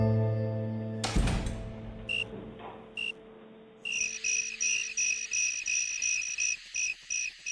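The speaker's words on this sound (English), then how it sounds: "each cricket, when responding to the chirp of another cricket, just shifts its rhythm" Crickets chirping in a steady rhythmic pulse after an opening thud and a fading tone, the repeated high chirps evenly spaced and fairly close, with no talk.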